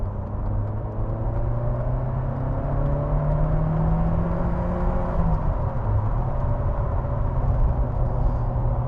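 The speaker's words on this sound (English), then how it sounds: "Just give it a little squirt here." A Lotus Esprit V8 with 350 brake horsepower accelerating on the road, its engine note rising in a steady, loud drone heard from inside the cabin with continuous low rumble and whir.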